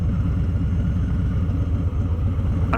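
A heavy motorcycle engine runs steadily during a night ride around Long Beach Harbor, a close, continuous low rumble that holds even without any talk.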